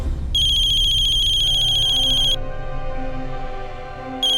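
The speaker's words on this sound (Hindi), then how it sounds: "सर ये जरूर रंजन का ही फोन होगा सर" A telephone rings with a bright, high electronic warble in long repeated bursts over low background ambience, with a pause before the next ring starts.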